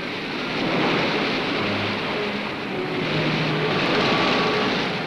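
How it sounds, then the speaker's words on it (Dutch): Wind and surf from a fierce summer storm battering a Delta Works ring dike in the Netherlands in 1957, a steady roaring wash of waves and gusts lasting throughout with no voices. "kreeg een ernstige terugslag door de felle zomerstorm die Nederland deze dagen te verduren had"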